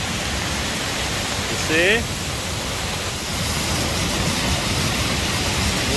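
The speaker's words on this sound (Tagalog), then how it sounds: "Ah, it's more waterfall than a river." A mountain waterfall roars as a loud, steady wash of water that fills the whole clip. A person speaks briefly over it.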